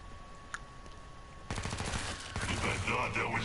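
Gunfire from shooting enemies in the game Killing Floor 2 starts after a quiet moment and turns into a fast, rattling stream of automatic shots that builds in loudness over about two seconds.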